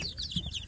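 Young native kampung chicks cheep in quick, high, falling peeps, close by and fairly clear over a low background hum.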